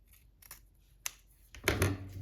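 Scissors snip through ribbon trim on a handmade journal, a few quiet separate cuts, the last one louder and closer, with no talking.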